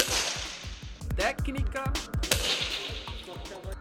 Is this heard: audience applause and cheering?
no